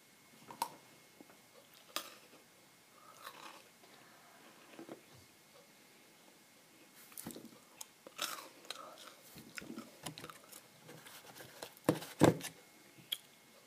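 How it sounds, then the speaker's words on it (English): Chocolate being chewed close to the mic for ASMR, with scattered soft crunches and bites spread unevenly through otherwise quiet stretches. "the ASMR chewing."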